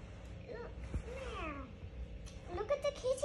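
A cat meows several times, with a drawn-out mew early and short rising cries near the end, fairly close, while a person talks nearby.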